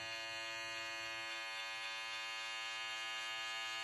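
An Andis hair trimmer drones close by, a constant, steady electric buzz with no pauses and no voices.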